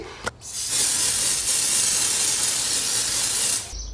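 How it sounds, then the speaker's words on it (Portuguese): Ruby Rose makeup setting spray is misted onto a face in one long, close, steady hiss lasting about three seconds, preceded by a small click. "E pra finalizar a maquiagem, eu vou passar um spray fixador"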